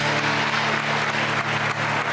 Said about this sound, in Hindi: तालियां बजे जा रही हैं, बजे जा रही हैं